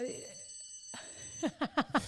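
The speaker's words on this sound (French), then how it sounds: "C'est la nouvelle cloche." School bell ringing, a sustained tonal ring that stops and gives way to people talking, followed by several short sharp tones, heard from moderately near.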